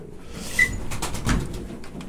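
Pigeons in a cold loft, soft low cooing and faint fluttery rustles close by, with a brief high chirp near the start and a slightly stronger coo burst around the middle.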